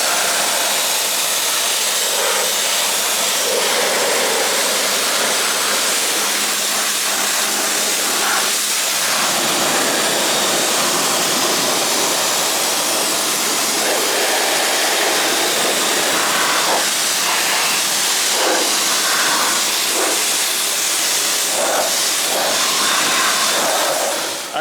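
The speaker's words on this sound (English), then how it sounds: "let's get the frickin' pressure washer out and let's clean the hell out of this thing" A pressure washer sprays a Toyota Landcruiser 120 Series Prado with a continuous loud hissing roar, its spray shifting slightly in tone as it moves across the vehicle, lasting throughout without talk.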